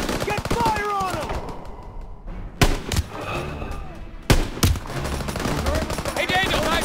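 Sniper and rifle gunfire in Call of Duty WWII crack out as a few sharp, loud shots amid battle noise, with voices shouting over the fighting.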